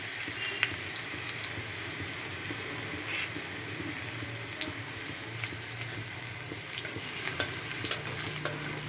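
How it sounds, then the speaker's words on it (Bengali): Chopped garlic fries in hot oil in a pan for methi paneer, a steady close hiss of sizzling with scattered small crackles and pops throughout. "রসুন কুচিগুলো একটু ভালো করে ভেজে নেব"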